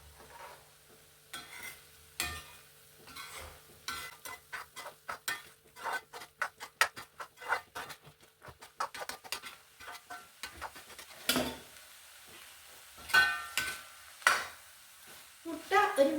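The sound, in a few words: stirring half-cooked egg in a pan for egg rice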